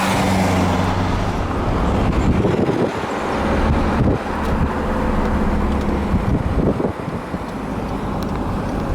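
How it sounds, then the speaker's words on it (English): A car drives along a road toward the Toverland theme park, its engine and road noise a steady loud rumble with wind buffeting the microphone throughout, no talking. "There's something about being in the car and driving up to these theme parks for the first time"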